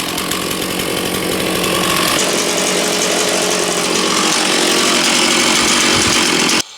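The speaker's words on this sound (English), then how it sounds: "Safety chain does not work for boring cuts very well." A chainsaw fitted with a chisel chain bores into wood for chainsaw furniture work, its engine roaring loud and close at steady full throttle throughout before cutting off abruptly at the end.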